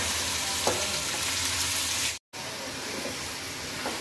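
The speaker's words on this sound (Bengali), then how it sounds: "এখানে আমার তেলও গরম হয়ে গেছে। এখন আমি মাংসগুলো সবগুলা দিয়ে দিব।" Qurbani meat frying in hot oil in a pot, giving a loud, steady sizzle that fills the clip, broken once by a brief dropout of silence midway.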